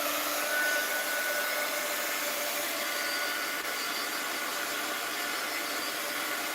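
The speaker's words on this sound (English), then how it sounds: "heat gun alert. I'm going to dry this" A heat gun blows a steady, loud, close-up roar of hot air over a drying art journal collage, holding an unbroken whooshing hiss from start to finish.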